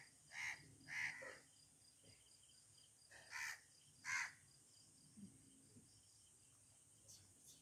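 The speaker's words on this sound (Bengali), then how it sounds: "আবার একটা কাক এসছে।" Crows caw in a few separate calls over a steady insect-like hum while feeding on a dead chicken on a rainy day, the harsh caws fairly near and spaced apart.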